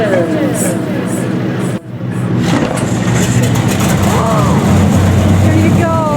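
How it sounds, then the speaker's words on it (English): Several NASCAR stock car engines fire up together at Dover, a dense, loud low rumble and revving that holds steady throughout after a brief dip, with cheering voices and talk on top. "Drivers, start your engines."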